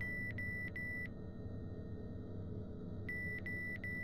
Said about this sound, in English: That alarm.